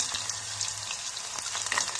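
Chopped onions fry in hot oil with mustard seeds, a dense steady sizzle close by with small crackles and pops, no one speaking.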